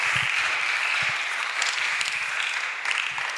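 A church congregation breaks into steady, dense applause that carries on throughout, a close, even wash of many hands clapping with no voices standing out.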